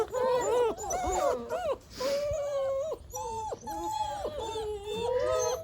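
Hungry puppies near lunchtime cry in loud, close, overlapping whimpers, whines and yelps that rise and fall almost continuously, with only brief pauses between bursts.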